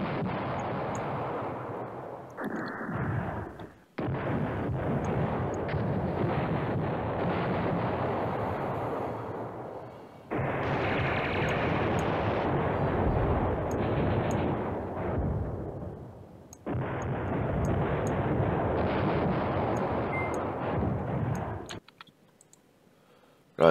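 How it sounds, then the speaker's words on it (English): Allied artillery barrages in the Command Ops 2 war game at Manhay Crossroads, long sustained rumbling roars of shelling in three loud stretches, broken by brief near-silent gaps, with no talking over it. "Yeah, the Allied artillery is just devastating"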